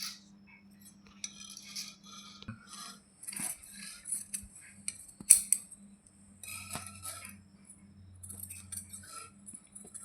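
Scissors snip through blouse sleeve fabric in short, crisp rasping cuts, close and fairly quiet, with small pauses between strokes and no talk.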